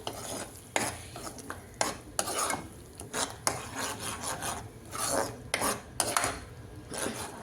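A spoon scrapes and stirs garlic and curry paste around a metal pan for an Afghani egg curry, with repeated close, rasping strokes and light sizzling throughout.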